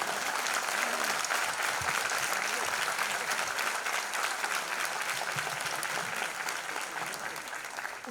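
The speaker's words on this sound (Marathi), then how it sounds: "जोरदार टाळी पडते रे पार्लेकरांची" A Vile Parle crowd applauds at a stage event, sustained dense clapping that stays loud and even, fading slightly in the last seconds.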